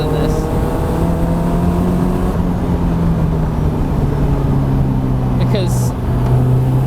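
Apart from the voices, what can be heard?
Caterham 620S car with 2 litre supercharged engine driving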